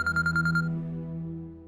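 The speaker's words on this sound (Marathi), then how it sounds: "तुझ्या आईचा फोन आहे" A phone rings for an incoming call with a short trilling electronic ring that pulses several times, then fades into a sustained decaying tone, fairly close and with no talk.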